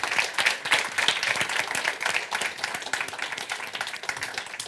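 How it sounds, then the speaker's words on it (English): Audience applause fills a conference hall at a tech summit as people come up on stage, a dense, steady wash of many hands clapping, loud and continuous throughout without pause. "Give a round of applause. A round of applause as they come up."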